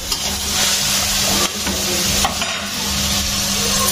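Bhaji and tomatoes fry in a hot pan with a steady loud sizzle, while a utensil stirs and scrapes through them close by and without pause.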